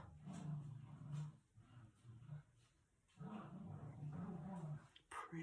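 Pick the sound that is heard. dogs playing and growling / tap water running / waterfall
dogs playing and growling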